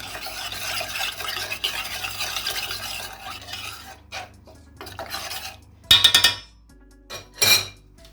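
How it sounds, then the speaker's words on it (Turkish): A spoon stirs starch, flour and egg yolk into birthday cake batter in a bowl, first scraping continuously, then giving a few sharp clinks against the side with short quiet gaps. "1 kaşık nişastayı, 1 kaşık unu da ilave edip şöyle karıştıralım."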